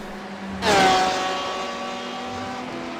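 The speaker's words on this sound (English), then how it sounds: "we just started a lap. With Jack in the Mason Motorsports car" A race car engine in a Daytona 12 Hours racing game, heard onboard a Mason Motorsports car: a loud whine bursts in as revs climb sharply, then settles into a sustained high-pitched engine tone that slowly fades.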